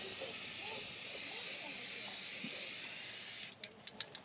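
An aerosol can of bed liner sprays onto the heavily rusted bed of a 1978 Chevy K10, a continuous close hiss for several seconds that stops, followed by a few short sputtering spurts.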